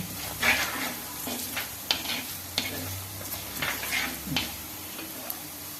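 Powdered spices hit hot oil off the heat for a vinegar-free lemon pickle, giving a soft steady sizzle with a few stirring scrapes and clinks of a spoon against the pan.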